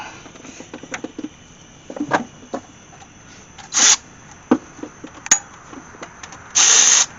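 Power tool driving a bolt into a Dodge Cummins 5.9 diesel engine during front main seal work, two short loud whirring bursts amid clinks and rustling of tools, no talking.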